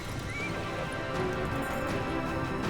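A horse whinnies clearly near the start, over a continuous bed of hooves clip-clopping and general outdoor bustle at moderate volume throughout.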